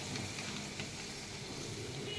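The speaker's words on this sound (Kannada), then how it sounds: "ಈ ಥರ ಎಲ್ಲನೂ ಫ್ರೈ ಮಾಡ್ಕೋಬೇಕು" Aloo 65 potatoes fry in hot oil, giving a dense continuous sizzle that stays even and fairly quiet throughout.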